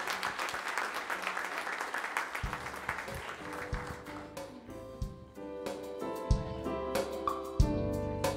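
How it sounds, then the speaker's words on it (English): A crowd at a church youth worship service applauds steadily, with scattered louder claps and some background murmur, rising slightly toward the end. "Let's give her a hand clap of encouragement."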